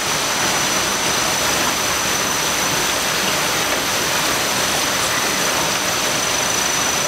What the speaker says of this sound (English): We are starting to introduce beans into the flowing water